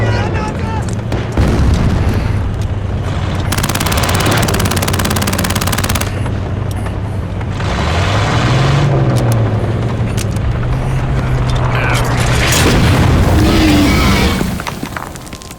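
War-movie gunfire: loud bursts of rapid rounds and heavy booms roll through a dense battle din, with engine rumble and shifting blasts, sustained throughout at close range.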